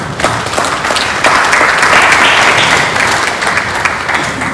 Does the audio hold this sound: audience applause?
yes